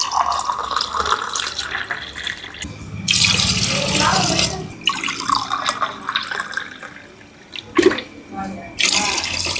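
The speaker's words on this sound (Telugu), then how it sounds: "మనం రైస్కి సరిపడా వాటర్ అయితే కొలత పోసుకుందాం." Water pours and splashes into a cooking pot for rice in a Tamil Nadu style Ambur biryani, filling in uneven bursts with drips and clatter, and a voice speaks intermittently over it.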